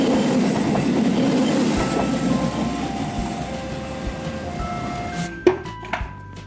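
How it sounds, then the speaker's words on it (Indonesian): Indonesian executive-class Go Green train carriages rolling along rails with a steady rumbling clatter, fading into sharp wheel clicks and squeals near the end. "gerbong kereta api tipe eksekutif Go Green"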